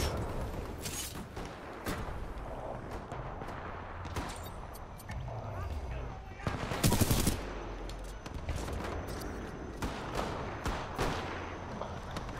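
Video game gunfire in a rooftop firefight, rapid bursts and single shots crackling through a noisy battle, with a louder cluster of shots near the middle, against constant background rumble.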